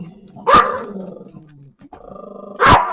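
Dogs bark close by in two loud, sharp bursts about two seconds apart, with a quieter stretch of low household noise between them.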